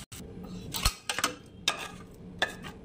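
Spoon scraping fried shrimp paste with poppy seeds out of a karahi into a bowl, several soft irregular scrapes and light clinks over a low room hum.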